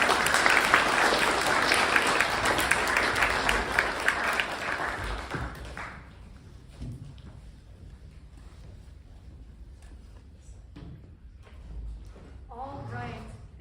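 A school civics day audience applauds loudly and steadily for about five seconds, then the clapping stops and a quiet room follows with faint shuffling and a brief voice near the end.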